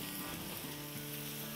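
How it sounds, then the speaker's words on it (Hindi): Goat liver (kaleji) sizzles and fries in a pan, a steady, quiet crackling hiss with no voices over it. "देखिए कैसे सिजल कर रही है"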